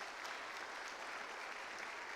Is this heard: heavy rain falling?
no